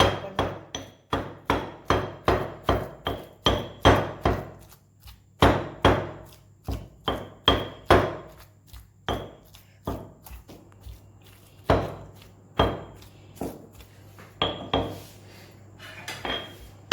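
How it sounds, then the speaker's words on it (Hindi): Rhythmic pounding of a chicken shami kabab mixture in a mortar, a steady run of close, sharp thuds with short pauses between bursts and no talking. "अब मैं इसे पीस रही हूँ। ये देखें, कुंडी में पीसने का अपना ही मज़ा है।"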